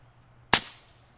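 A single sharp crack from an Air Arms S510 XS TDR regulated air rifle shot, close and alone in a quiet room, with a short fading tail.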